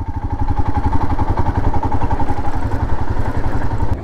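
A motorcycle engine runs steadily nearby in snowy Manali with a rapid, throbbing putter and a faint rattle, loud and continuous throughout.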